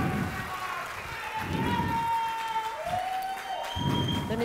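A studio audience at a televised courtroom-style show cheers and applauds in swelling bursts, the noise rising and falling, with whistles and raised voices mixed into the crowd.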